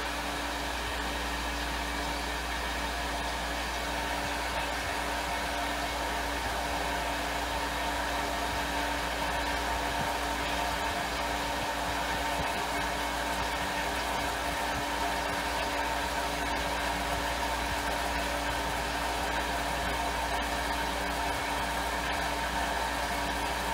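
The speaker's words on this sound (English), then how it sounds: "So let's see what the pump does." A water pump running steadily, its constant motor hum and whir filling the space without change in level throughout.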